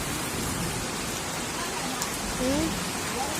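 Steady rain pours outdoors as a broad, even hiss that holds throughout, with no other sound standing out above it.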